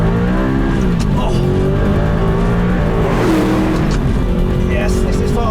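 A £35,000 all-wheel-drive budget supercar accelerates hard on a track, its engine rising and shifting through gears with a brief tire slide, loud and close, as a driver speaks over the roar.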